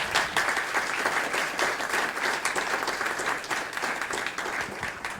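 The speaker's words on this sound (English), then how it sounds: "please, a round of applause for our panelists" An audience at a panel discussion on culture and science on Mauna Kea applauds steadily, a dense, even clapping that holds for several seconds.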